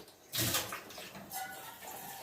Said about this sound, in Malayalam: കുറച്ചൊന്ന് വെള്ളം ഒഴിക്കും